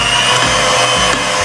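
An electric mixer whirs steadily as it beats cake batter for a steamed sponge cake, a continuous loud motor drone with slight dips in pitch as the beaters move through the thick mixture.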